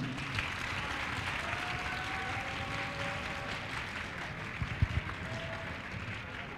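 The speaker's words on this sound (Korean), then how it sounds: "다시 한번 한혜민 선생님과 관악부원들의 박수 부탁드립니다." Audience applause for a high school wind band at a school concert, a steady continuous clapping wash at moderate distance, with a few louder near claps standing out briefly.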